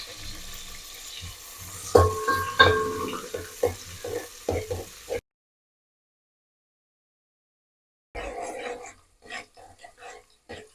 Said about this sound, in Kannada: ಈರುಳ್ಳಿ ಹುರಿತಾ ಇದ್ದೀನಿ